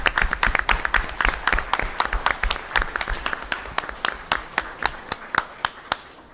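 A small crowd at a school board meeting claps steadily, sharp individual claps forming a lively patter that thins out toward the end, with no voices over it.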